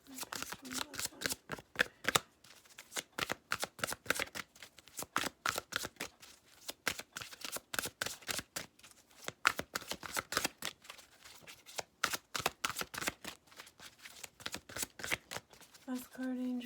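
Playing cards are shuffled over and over in quick rhythmic riffles, close and crisp, with brief pauses between bursts and a voice at the very end.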